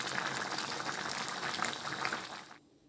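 Chicken tikka cooking in water on full flame, a steady dense bubbling and sizzling as the liquid boils off, loud and close, cutting to near silence at the end.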